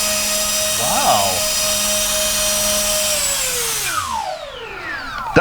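Two small electric motors with 20 amp ESCs on a 1.2 m RC Twin Otter model airplane whine steadily at high pitch, then wind down in falling tones near the end, heard up close indoors.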